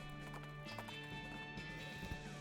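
Hooves clip-clop in a quick, even rhythm as a horse is ridden away in the western game West of Loathing, the steps clear and close over a bed of quiet game music.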